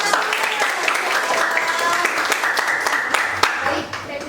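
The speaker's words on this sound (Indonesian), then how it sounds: "Oke, tepuk tangan." Students in a classroom clap together in a sustained burst of applause lasting a few seconds, with voices mixed in beneath the clapping.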